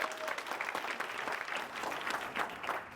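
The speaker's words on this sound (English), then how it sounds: "Give me a clap." A small audience at a sales closing competition claps briefly, a faint, steady patter of hands with some cheering voices mixed in.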